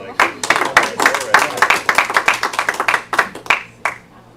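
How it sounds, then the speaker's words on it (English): A short round of applause at a Civil Air Patrol squadron meeting, a small group clapping briskly for about four seconds before tapering off, close and fairly loud. "I feel like we missed the round of applause or something"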